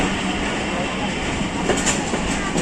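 Kohat Express passenger train rolling on rails in Pakistan, a steady loud roar of wheels and carriage rumble from inside the train, continuous for the whole stretch with faint rattles.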